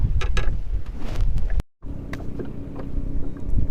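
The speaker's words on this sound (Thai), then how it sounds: "ลมแรงเหลือเกิน ลมแรงผิดปกติ แรงมากด้วย พัดเรือหมุนไปหมุนมา" Strong gusty wind buffets a small boat out shrimp fishing, loud rushing microphone noise with a brief dropout in the middle and no talk.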